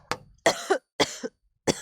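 Four short, dry coughs come in quick, irregular succession, close and clear against silence.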